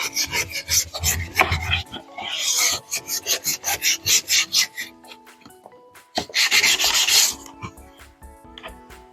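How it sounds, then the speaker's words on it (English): Rasping strokes of sandpaper across a white-painted wooden cabinet being distressed, rhythmic rubbing in close, loud bursts with brief pauses between passes. "now I'm going to sand it and distress it a little bit"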